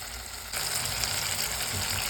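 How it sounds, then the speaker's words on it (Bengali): Katla fish frying in mustard oil in a pan, a close, steady sizzle that swells suddenly after a brief quieter start and then holds level. "হ্যাঁ, তো একটু ফ্রাই হোক, তারপরে নুনটা দিচ্ছি।"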